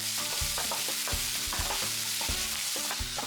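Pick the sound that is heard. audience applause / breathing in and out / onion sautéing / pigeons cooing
onion sautéing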